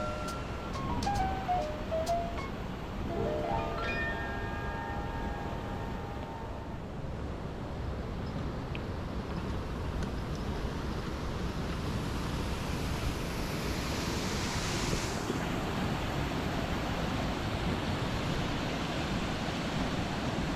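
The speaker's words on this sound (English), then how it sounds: "So this is the waterfalls here." Rushing water from a waterfall among smoothed rocks at Hampi, India, a steady broadband roar lasting throughout, close and continuous, with brief bird-like chirps early on.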